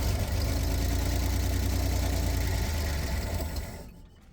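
The engine of a rare Chevy G10 van, sunk in dirt for 29 years, runs on fuel bottle-fed from a boat tank with a loud, dry, rumbling idle that fades and cuts out near the end.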